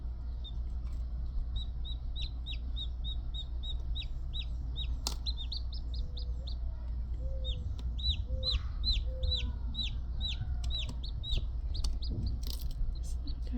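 A baby bird chick chirps repeatedly in quick high peeping series over a steady low background hum, close and moderately loud.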